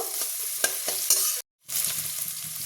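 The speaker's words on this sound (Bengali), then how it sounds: "তো আমি এই পেঁয়াজটাকে আরও ভালোভাবে ভেজে নেব।" Onion fries in a pan with a steady sizzle and clicking strokes of stirring. The sound cuts out briefly, then the sizzling resumes.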